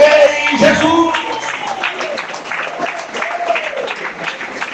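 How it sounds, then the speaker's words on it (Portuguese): A church congregation claps for Jesus during a sermon at a service in Samambaia Sul, a steady wash of moderate applause with voices singing and calling out over it, a tonal, melodic line running through the whole stretch. "Pode aplaudir o Rei Jesus."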